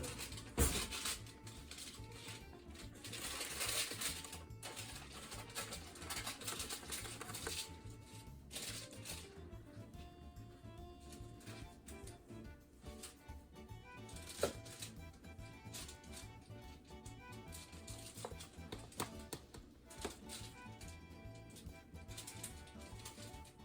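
A knife cuts through hot cooked lasagna noodles in a pan, giving a busy run of crisp taps, scrapes and clicks against the pan over roughly twenty seconds, with no talking.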